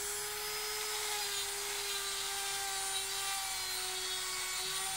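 A DongCheng DSJ25B die grinder, also called a bottle grinder, enlarges a hole, whining at a steady high pitch under load throughout without breaks.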